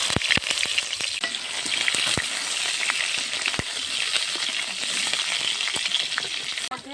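Potatoes dropped into hot mustard oil in a clay pot sizzle loudly and steadily, with sharp pops and crackles scattered through the frying. A few stirring scrapes sound close by, and no one speaks.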